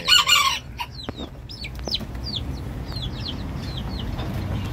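A Java junglefowl lets out a loud, close crow, then a run of short, chirpy clucks and calls spaced through the rest over a low background hum.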